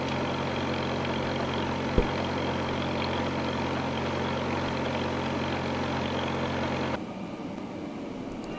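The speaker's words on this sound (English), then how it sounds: "here we are manufacturing the new gear in the milling machine" A milling machine cuts a new replacement gear for an International Harvester No 15 baler, giving a steady, loud mechanical drone with a single sharp click partway through; the hum drops noticeably near the end as the cut eases off.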